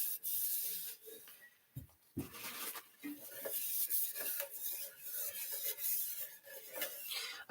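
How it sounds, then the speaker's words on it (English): Melted soy wax is wiped off candle-making equipment with cloth, giving close, soft rubbing and scraping strokes in irregular bursts with short pauses, no talking. "I will always pause to clean my equipment, particularly anything with melted hot wax"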